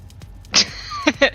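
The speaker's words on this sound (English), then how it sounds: "That's the doorbell. That's just going off," A home doorbell goes off during an online tabletop role-playing session: a bright ringing tone starting at about half a second, followed by two further chime strikes near the end, heard fairly close and without talk over it.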